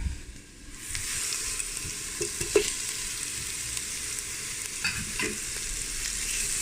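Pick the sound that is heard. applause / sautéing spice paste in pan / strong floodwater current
sautéing spice paste in pan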